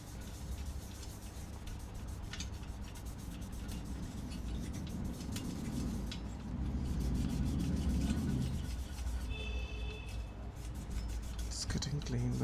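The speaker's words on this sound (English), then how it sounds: "Let's try to scrape it off with a microfiber cloth." A microfiber cloth scrapes and rubs old thermal paste off a PS3 Slim's chip, a steady close scrubbing texture that swells louder midway.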